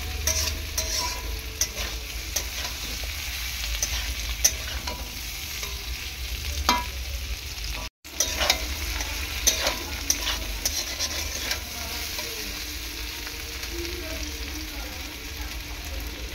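White potato curry fries and sizzles steadily in a pan with grated ginger added, while a utensil stirs and scrapes continuously throughout.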